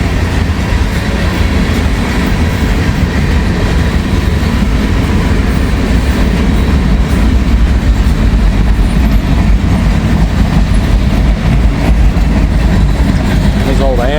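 Old Amtrak boxcars roll past close by, a continuous loud rumble with rhythmic clickety-clack from the wheels over rail joints and faint squeals.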